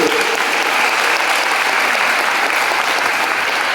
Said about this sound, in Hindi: आप तालियां तो बजाएं इस सोच के लिए